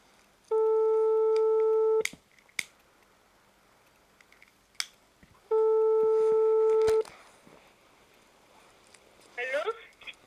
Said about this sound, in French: j'appelle en premier lieu sur le fixe